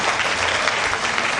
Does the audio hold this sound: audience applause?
yes